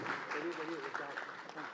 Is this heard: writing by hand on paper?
no